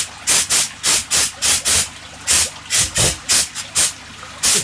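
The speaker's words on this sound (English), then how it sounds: "Got my little air compressed gun there." Bursts of compressed air from a small air gun blowing debris off a jellyfish aquarium build, about a dozen short loud hissing blasts in quick rhythmic succession, close up.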